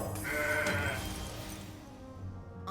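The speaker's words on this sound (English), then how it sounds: "For the moment we're playing the Mountain Goat." A goat bleat plays as the Mountain Goat card is put down in the Legends of Runeterra video game, a short wavering animal call followed by quieter game ambience, with no talking.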